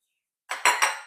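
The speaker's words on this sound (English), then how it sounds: "Just give it a quick mix." Dry baking ingredients, plain flour, baking powder, baking soda and salt, being stirred in a bowl for chocolate chip cookie dough: three quick clinking, scraping strokes of a utensil against the bowl, close and alone after a short silence.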